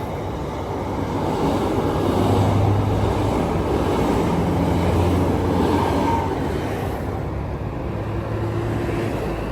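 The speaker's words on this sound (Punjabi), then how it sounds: "ਨਾਲ ਦੀ ਨਾਲ ਮੈਟਰੋ ਵੀ ਚੱਲ ਰਹੀ ਹੈ" A metro train runs past with a steady, heavy rumble and rolling noise that holds throughout, loud and close, with no voices.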